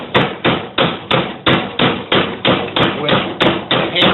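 Steady, evenly spaced hammer strikes drive a pin into a Porsche 911 915 transmission coupler bushing, about a dozen sharp metallic blows in a regular rhythm, close and loud.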